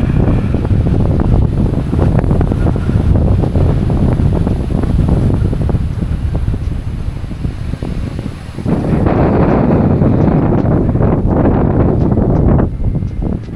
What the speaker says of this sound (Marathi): खतरनाक वारा आहे मित्रांनो.